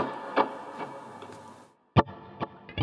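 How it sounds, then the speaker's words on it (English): Electric guitar through a Line 6 Helix delay setting, sounding as a few distorted plucked notes with trailing repeats, fairly quiet and close, with a short silent gap before louder picked notes resume. "Here's a delay setting."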